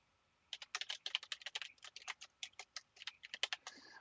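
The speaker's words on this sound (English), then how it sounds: "once you finish typing the complete path" Steady typing on a computer keyboard: a rapid, irregular run of light clicks at close range, quiet and alone, with no voices.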